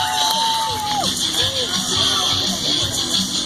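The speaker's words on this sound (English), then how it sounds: "Give it up for Christian Barron, laying one down early." Crowd cheering and children shouting at a BMX stunt show at a county fair, a lively mix of voices and whoops under a whistling high squeal, fairly close and steady throughout.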